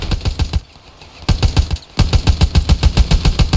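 Machine gun fire in the war game Ravenfield, set in World War I trenches, rapid evenly spaced heavy shots in close loud bursts with a short pause, then a longer steady stream.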